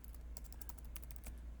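Rapid keystrokes rattle across a computer keyboard as shortcuts and text are entered while editing MATLAB code in Vim, a close, steady run of light clicks over a constant low hum, with no voices.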